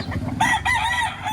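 A Gilmore Golden Boy gamecock at a market in Lipa, Batangas lets out a loud, close crow of about a second, with hoarse breaks in its call, over a low murmur of background noise.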